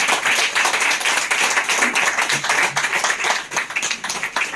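An audience claps continuously and steadily as directors are invited on stage at a business event, a dense, loud crowd applause with no break.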